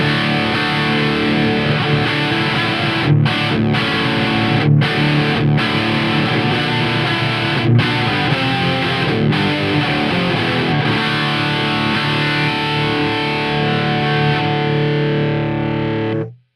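A distorted electric guitar plays chords through a Valhalla Jotunn 100 amp on its overdriven drive channel, with a thick, saturated tone and short breaks between strums, ringing out before cutting off.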